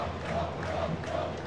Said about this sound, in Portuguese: Torcida tunante começa a gritar gol por aqui